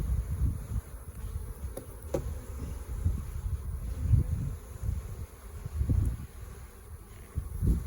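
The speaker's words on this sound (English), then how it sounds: "couple bees out, not too bad" Honey bees from a shaken-out package hum and drone nearby in a continuous low buzzing swarm, with faint rustling and occasional ticks from handling.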